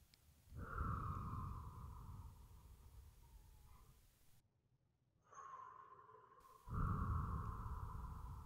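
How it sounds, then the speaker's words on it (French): Slow, soft breaths drawn in and released through the mouth during a guided meditation, two long airy passages close to the listener with a short quiet gap between them. "maintenant de la bouche, on expire pendant que ça rentre"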